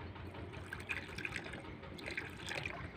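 Water is poured into a clay water pot (surahi), a soft gurgling trickle with light dripping and splashing, close by and fairly quiet, with no talking.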